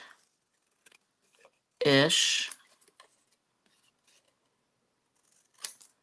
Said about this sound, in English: I'm just going to cut this straight-ish.